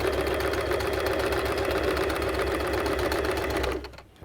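A sewing machine stitches machine embroidery onto textile designs in a steady, rapid mechanical whirr close by, running continuously before stopping near the end.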